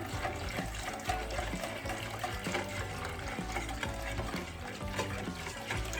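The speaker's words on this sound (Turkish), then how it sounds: "Sıcak su ilave ediyorum." Hot water pours steadily into a sauce seasoned with black pepper and salt for an oven-baked potato dish, a continuous close splashing stream.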